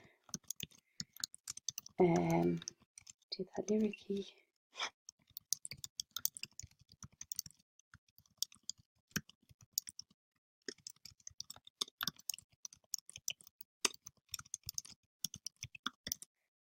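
Scattered clicks and soft taps of a computer keyboard as text is typed into a text-to-speech input box, quiet and irregular, with brief bursts of a voice near the start.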